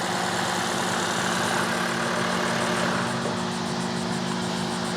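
The 2.5-liter four-cylinder hybrid engine of a 2025 Toyota Grand Highlander Nightshade runs at a steady idle, giving a constant, even hum heard up close with no voices.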